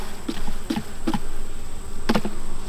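Honey bees buzz continuously as they are shaken off a hive frame at an apiary, the close droning swarm broken by several short knocks of the frame.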